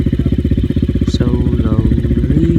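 A Yamaha WR250 motorcycle engine thumps loud and close during a ride, its rapid regular pulses steady throughout, with a brief rev rise near the end.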